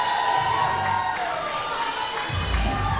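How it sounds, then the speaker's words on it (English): Spectators at a ballroom dance competition cheer and whoop across a crowded hall, a continuous roar of voices with scattered high shouts, fairly loud and steady for about three seconds. "Good cheer"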